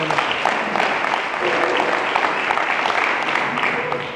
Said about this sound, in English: you should give me a round of applause for Sedibeng